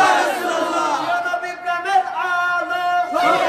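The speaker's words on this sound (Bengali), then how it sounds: "তাকবীর, আল্লাহু আকবার" A gathered crowd at a Bangla Islamic sermon answers the takbir call, chanting Allahu Akbar together in loud, swelling, drawn-out voices that rise and fall across the whole span.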